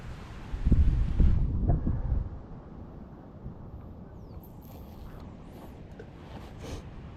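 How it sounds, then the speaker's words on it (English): Gusty wind buffeting a microphone outdoors at a fishing match, a heavy low rumbling blast for a couple of seconds that then eases to a quieter steady rush. "Look at this wind now."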